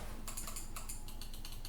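Quick, crisp clicks from Razer Viper Ultimate and G Wolves Hati computer mouse buttons come in a fast irregular run, close and fairly quiet.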